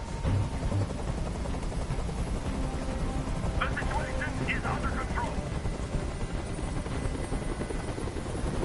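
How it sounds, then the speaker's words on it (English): A helicopter hovers overhead during a tense hostage standoff, its steady rotor drone filling the scene loud and constant while someone talks over it. "Tell that helicopter to get out of here."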